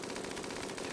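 A short burst of gunfire in the colony game Rimworld, a quick rattle of shots at moderate distance, brief and without talk.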